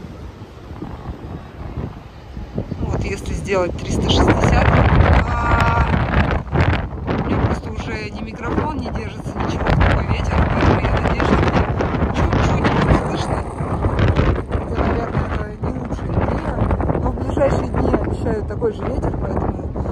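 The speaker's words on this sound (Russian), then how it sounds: "Ну и плюс еще вот этот ветер огромный." Strong wind buffets the microphone almost nonstop at a Cape Town harbor, a loud roaring rumble under someone talking.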